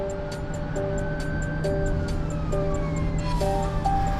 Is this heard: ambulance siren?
yes